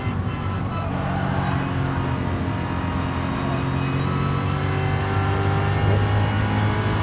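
A 1966 Ford Mark 1 race car roars through a video game race, its engine a steady, loud drone with sustained harmonic whine and slight rises in pitch as it accelerates, continuous throughout with no talk.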